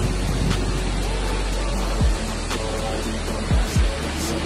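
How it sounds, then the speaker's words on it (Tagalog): Ulan-Ulan Falls in Biliran sends a strong flow of water down in a dense, constant rushing roar, close and loud, with a few low thumps underneath and no one speaking. "Oo, ang lakas ng water. Napaka-natural. Ang ganda ng Ulan-Ulan Falls."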